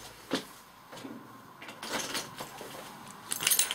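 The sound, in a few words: keys jangling on a keychain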